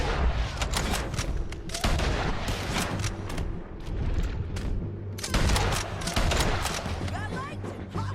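Gunfire in the Red Dead Redemption 2 video game: loud, rapid overlapping shots and booms in sustained volleys, with a brief lull midway, while voices shout underneath.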